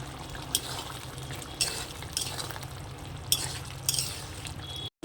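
A spoon stirs ghee into kundri masala in a pan, giving several separate scraping, clinking strokes over a soft background hiss, fairly quiet and close.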